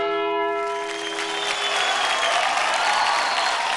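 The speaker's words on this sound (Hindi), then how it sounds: "कम ऑन गाइस, जोरदार तालियां हो जाए वेंकटेश के लिए।" Audience applause for a dance performance on a TV dance competition, loud and dense, swelling from a bright tonal musical tail into a steady wash of clapping that fills the hall.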